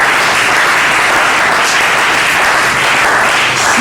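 A church congregation at an evening salvation service applauds to acclaim the Lord, steady dense clapping filling the room throughout, loud and close with no talk over it.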